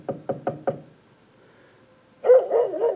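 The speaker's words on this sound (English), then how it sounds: "There's the dog barking." In a dog-barking sound effect, four quick, evenly spaced knocks come first, then after a short pause a dog lets out a loud, close burst of barks to the end.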